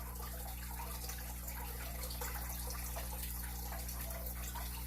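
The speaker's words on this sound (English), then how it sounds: "You know, the water running." Water runs steadily in a fish tank, a continuous bubbling trickle over a strong steady motor or pump hum, loud and unbroken throughout.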